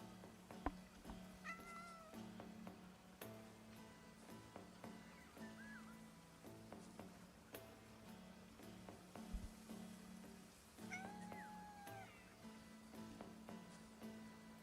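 A cat in the video game Crimson Desert meows a few times at scattered moments, fairly faint over a steady low game ambience and occasional clicks, with no talking.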